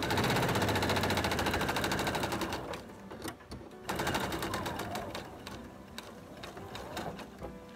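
A domestic sewing machine stitches a Costela de Adão (monstera leaf) placemat, its fast, steady mechanical chatter running close and loud, breaking off briefly midway with a few clicks before stitching resumes at full speed.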